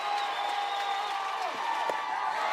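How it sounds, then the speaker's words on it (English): Crowd noise rises steadily at a college softball game between Texas A&M and Texas, a continuous roar of cheering and clapping with a sustained whistle-like tone running through it. "The crowd behind her."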